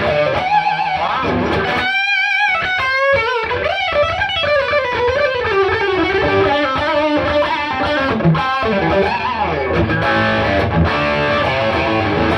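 Distorted electric guitar played through an Engl Steve Morse amp head, using a Music Man Steve Morse Y2D guitar: loud, sustained lead lines with bends and vibrato after a brief rhythmic chug, continuous for about twelve seconds with no talking.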